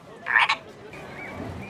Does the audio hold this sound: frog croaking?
yes